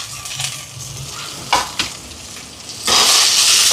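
Garlic, green chillies and shallots fry in hot oil for kili parotta and prawn curry, a steady close sizzle with a couple of stirring knocks and a louder surge of hissing near the end.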